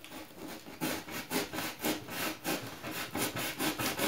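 A hand saw is drawn back and forth through wood with steady rasping strokes, about two per second, close and loud with no talking, during work on a roller shutter box.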